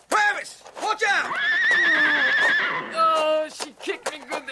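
A horse whinnies loudly and repeatedly up close, long shrill neighs broken by snorts and a thump of hooves, with agitated voices calling out between the cries.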